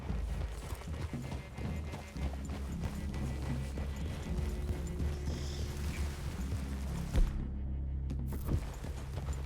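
Horses in the video game Red Dead Redemption 2 walk with soft, steady hoof clops, fairly close, under a low ambient game background that briefly drops out near the end.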